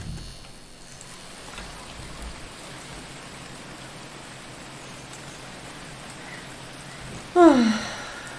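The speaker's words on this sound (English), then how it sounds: "And because of this shitty rain, I cannot see anything." In Phoning Home, steady rain hisses evenly for several seconds, fairly quiet, before a short bright electronic chirp cuts in near the end.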